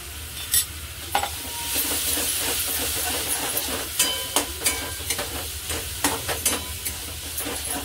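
Two spoons of yogurt stirred into frying masala for an arbi dish, a continuous sizzle broken by repeated sharp spatula clicks and scrapes against the pan, near and fairly quiet.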